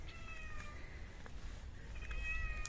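A cat meows repeatedly in drawn-out, high cries, with a steady low rumble of wind or outdoor background underneath.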